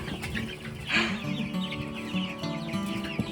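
Chickens in a farm brooder cluck steadily over a busy, continuous background of bird chatter, with one louder, brighter call standing out near the start.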